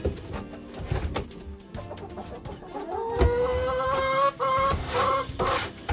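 Backyard chickens cluck and make short calls close by beside a wooden poop shelf made of old recycled paneling board, with irregular scratching and knocking noises underneath and a couple of longer rising bird calls in the second half.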